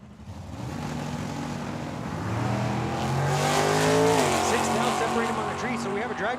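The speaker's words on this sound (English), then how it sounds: "Drag race here." Drag race cars, including a 1969 Plymouth Roadrunner, launch down the strip with a swelling engine roar that builds and peaks midway, heard from trackside with crowd and announcer voices running over the noise.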